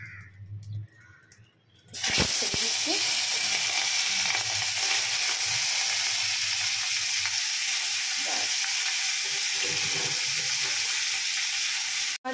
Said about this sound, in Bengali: মাছ ভাজা চলছে, মাছের অপোজিটটা আমি উঠে দিলাম।